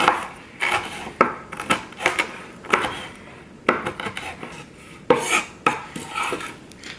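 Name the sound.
chopping food into bits with a knife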